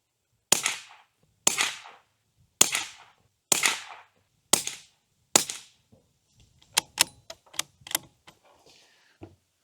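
Bolt-action .22 rifle firing Federal Auto Match ammunition outdoors: six crisp, evenly spaced shots, each with a short echoing tail, followed by quieter metallic clicks and clacks of the bolt being worked.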